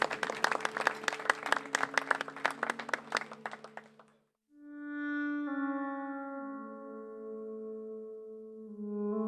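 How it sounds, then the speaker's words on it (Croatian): Big round of applause at a Centar za mir ceremony in Mostar: dense, steady crowd clapping for about four seconds, then fading out as sustained music tones take over. "Molim jedan aplauz veliki."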